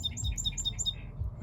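Birds chirp outdoors in quick repeated high tweets over a low rumbling background, the calls clear and fairly close, with no voices.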